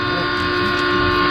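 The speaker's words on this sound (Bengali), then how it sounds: "ট্রেন, ট্রেন চলে আসছে।" A train approaches with a sustained, loud horn blast over a rumbling, rhythmic clatter of wheels, filling the short stretch without any voices.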